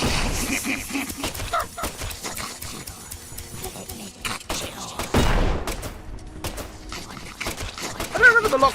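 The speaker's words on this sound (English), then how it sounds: "I don't remember the locks exploding when I shot them with my venom gun before, but they are now." Locks bursting apart under fire from a venom gun in Deadly Premonition 2, a string of sharp game blasts and crackles mixed with rapid shots and impacts, moderately loud, with game audio and background sounds throughout.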